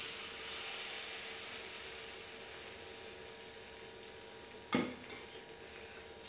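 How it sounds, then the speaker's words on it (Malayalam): Rice batter poured into a hot palappam pan for Kerala palappam, a soft steady sizzle and hiss running through, with a short loud clatter of the pan near the end; no one speaks. "ഇനി ഇതിലേക്ക് നമുക്ക് മാവ് ഒഴിച്ചു കൊടുക്കാം."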